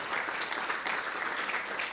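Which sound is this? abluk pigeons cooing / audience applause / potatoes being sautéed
audience applause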